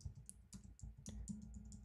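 Someone types a password on a computer keyboard, a handful of soft, close keystroke clicks at an uneven pace, quiet and with no talk.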